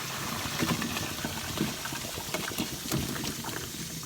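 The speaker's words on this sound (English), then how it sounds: "We're going to drain our potatoes, everybody" Boiled potatoes drained in a kitchen, giving a continuous loud rush of pouring, splashing water with steady texture throughout and no talking.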